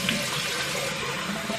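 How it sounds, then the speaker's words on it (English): Water splashes at a bathroom sink as a face is rinsed after a clay mask, giving a continuous close rush of running and splashing water with no talking. "now I'm just gonna splash with water to make sure I have everything"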